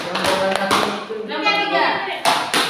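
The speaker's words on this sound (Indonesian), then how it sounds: "tepuk tangan untuk kelompok 2" Classroom students clap for a presenting group, a short burst of close, uneven hand claps mixed with voices and chatter among the children.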